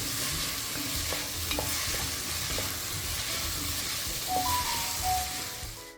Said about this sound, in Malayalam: ഇതൊന്ന് കളറ് മാറുന്നിടം വരെ ഇളക്കി കൊടുക്കണം